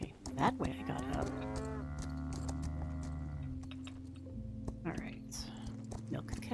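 Cows mooing in the farm video game Equinox: Homecoming, a long low drawn-out moo close up, with lighter animal sounds and a soft voice murmuring around it.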